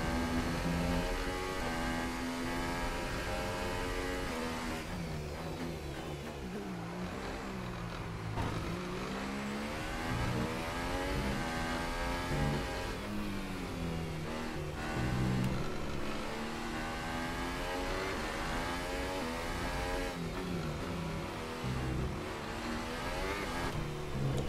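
A Formula 1 car engine in the F1 2018 racing game screams continuously at high revs, rising and falling through gear changes for the whole stretch, loud and alone with no talk.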